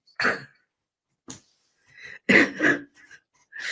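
Several harsh coughs come close to the listener in bursts, a couple of them doubled, separated by short quiet gaps.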